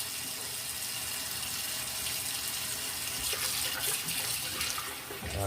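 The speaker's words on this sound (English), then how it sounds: "Give it another rinse." Tap water runs steadily into a sink, splashing over turkey wings being rinsed; a continuous, moderately quiet rush with no talk.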